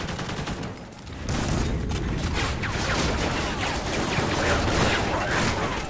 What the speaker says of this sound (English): I'm getting shot from absolutely everywhere and I get killed from the fucking back